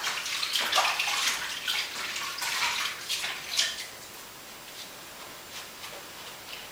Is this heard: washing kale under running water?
yes